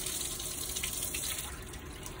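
A tap runs steadily during a surgical scrub as water rinses over hands and forearms down to the elbows, a constant close hiss and splash with no speech.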